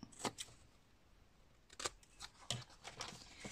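Sharp snips of scissors trimming the corners of a folded paper scrapbook album page, several quick close cuts spaced apart amid faint rustling.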